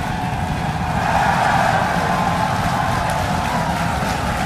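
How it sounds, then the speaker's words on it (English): A SpaceX Starship Super Heavy booster lifting off on its fifth flight, a loud, steady, broadband roar that stays constant throughout with no break and no voices. "We have liftoff."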